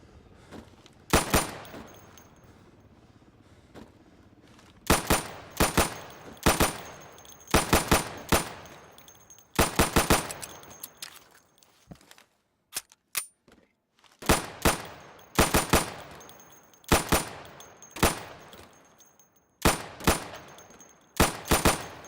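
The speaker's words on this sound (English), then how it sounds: "So you can shoot accurately over 20 feet with your sidearm" Rapid pistol shots from a sidearm in the video game Insurgency, fired at pop-up targets on a range, come in sharp repeated bursts with short gaps between groups, loud and close, with no talk.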